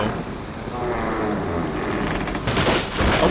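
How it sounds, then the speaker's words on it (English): A bridge collapses under a waterfall in the Nancy Drew game Creature of Kapu Cave: a dense, continuous crackling rumble like rushing water and debris, swelling louder and harsher toward the end. "The whole bridge collapsed under the waterfall."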